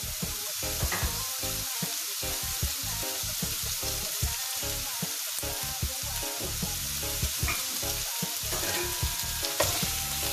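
Garlic, onion and tomato sautéed in a hot pan for ginisang monggo, a steady loud sizzle with frying crackle and occasional stirring clinks, no talk.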